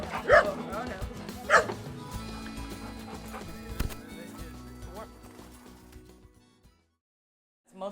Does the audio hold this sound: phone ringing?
no